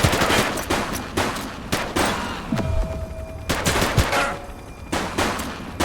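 Rapid bursts of police gunfire in The Precinct video game, loud, close sharp shots repeating in clusters across the whole stretch with brief gaps between volleys.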